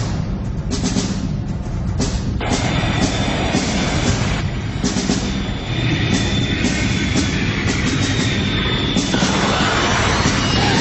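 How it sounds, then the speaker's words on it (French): In an animated cartoon, an airplane about to land gives off a loud, steady engine roar that fills the whole stretch, with a few sharp knocks along the way. "Veuillez attacher vos ceintures, nous allons bientôt atterrir."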